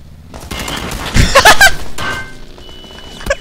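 Gunfire in the battle royale shooter PUBG, a loud burst of several rapid shots around the middle with a sharp single report near the end, with game ambience between.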